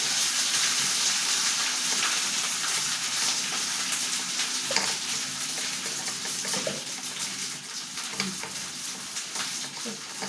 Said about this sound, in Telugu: ఉప్పు అనేది యాడ్ చేసుకొని ఇదంతా కలిపేసేయండి.